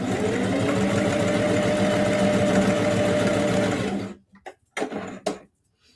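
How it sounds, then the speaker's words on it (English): A sewing machine runs a steady straight stitch down fabric at a 3mm stitch length, humming and clattering evenly for about four seconds before stopping, followed by a few brief handling knocks. "I'm just sewing a straight stitch all the way down, still using the 3mm stitch."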